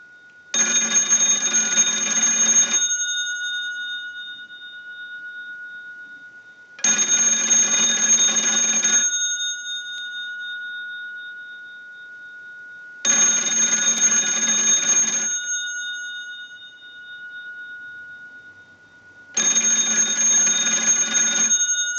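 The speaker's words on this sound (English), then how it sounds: "send a ring cycle like you were getting a call" A loud bell from a candlestick rotary telephone's bell box rings in four long, evenly spaced bursts, each lasting a couple of seconds with quiet gaps between.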